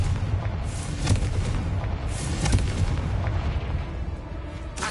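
Fiery spell explosions in the Hogwarts Legacy video game, a dense, loud rumbling wash of booms and blasts with repeated bursts, constant and close, no talk over them.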